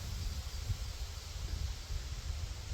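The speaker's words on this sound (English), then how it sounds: "Sorry, the wind is picking up." Wind blows outdoors, buffeting the microphone in a steady low rumble with gusty fluctuations and a faint hiss, no other sounds standing out.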